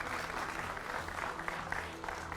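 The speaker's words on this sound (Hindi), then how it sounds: "जोरदार तालियों से स्वागत।" A studio audience claps to welcome guests on a Hindi television political debate panel, a moderately quiet burst of steady clapping over a low hum.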